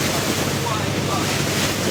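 Steady wind buffets the microphone outdoors on Koh Phi Phi island, Thailand, a constant roaring rush with a faint surf-like wash underneath.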